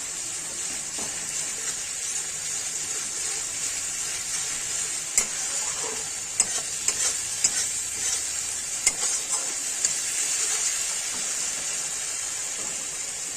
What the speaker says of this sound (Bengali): এখন ভালো করে নাড়াচাড়া করব, তাহলে গ্রেভিটা ভালো হবে